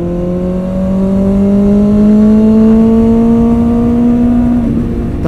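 Motorcycle engine running while riding on a morning road, a close, loud, steady drone whose pitch climbs slowly and then drops near the end, with no talking.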